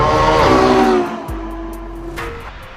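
Ferrari F12 Berlinetta front-engine V12 touring car pulling hard with a loud, close engine note that climbs in pitch, then eases off into a steadier, quieter drone with a brief shift in tone near the end.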